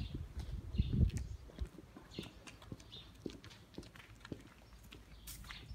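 Horses on a farm shift and clop nearby, scattered hoof thuds and snorting breaths at an uneven pace, with soft rustling in the background.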